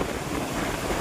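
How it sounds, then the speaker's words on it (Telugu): Strong wind roars at Nagarjuna Sagar Dam beside flowing water, buffeting the microphone with a loud, steady rush of noise. "చూడండి ఫోన్ కూడా షేక్ అవుతుంది, ఆ గాలి మామూలుగా లేదు."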